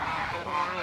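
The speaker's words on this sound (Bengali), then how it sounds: "এই হাঁসগুলো কি তোমার?" A short burst of honking, nasal calls from a group of ducks outdoors, fairly close, overlapping with one another over a background murmur of voices.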